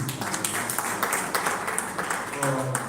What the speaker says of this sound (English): a round of applause for our keynote